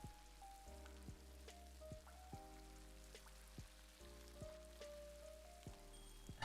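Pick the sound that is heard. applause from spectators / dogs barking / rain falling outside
rain falling outside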